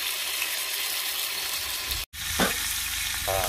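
Thick bacon frying in a pan, heard as a steady, close, hissing sizzle, briefly cut by a dropout and followed by a few faint scraping clatters, with no talk.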